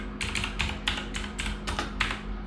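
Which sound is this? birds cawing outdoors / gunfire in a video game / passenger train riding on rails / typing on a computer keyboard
typing on a computer keyboard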